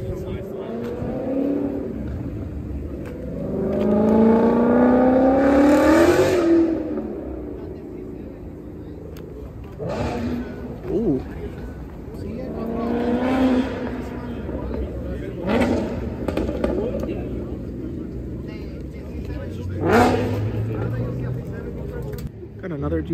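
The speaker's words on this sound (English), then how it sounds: "Another GTR, I didn't even see that one come in" A Nissan GT-R pulls in at a gas station among street racers, its engine revving in several rising swells and blips that come and go, with people talking nearby over the engine noise.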